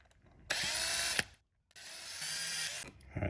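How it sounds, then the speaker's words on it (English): A power drill boring a small hole in a Porsche Boxster 986 mirror cover, two close whirring bursts of about a second each separated by a brief pause. "try to drill a little hole in here"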